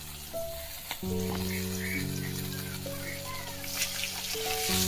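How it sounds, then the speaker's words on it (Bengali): Food sizzles and fries over a wood-fired stove in a home kitchen, a steady crackling hiss running throughout, with sustained tonal hums and occasional clinks layered over it, no voices. "এই দেখো ফ্রেন্ড কাঠের জালে রান্না হচ্ছে"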